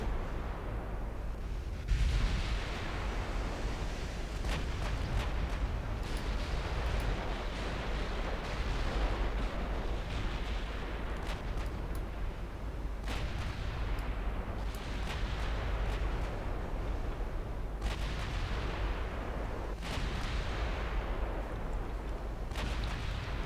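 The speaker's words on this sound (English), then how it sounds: "we're taking return fire. Accurate fire too" Naval gunfire booms in the Ultimate Admiral Dreadnoughts video game as shells strike around a warship, with repeated heavy blasts and rumbling detonations roughly every few seconds over a continuous low roar.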